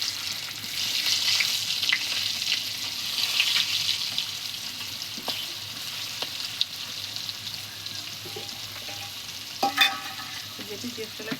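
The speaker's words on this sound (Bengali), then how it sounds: "আলুগুলোকে একটু লাল লাল করে ভেজে নেবে" Potatoes fry in hot oil in a wok, a steady broadband sizzle with scraping stirs and occasional clinks, a louder clatter near the end; no one speaks.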